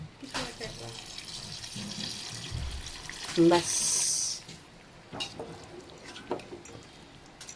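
Hot water splashes and gurgles as it is poured into a pot of paneer veg biryani, a brief close pour in the middle, with people talking before and after.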